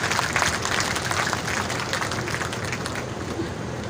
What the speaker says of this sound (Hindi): ये देखो बजी हुई तालियां का देखो।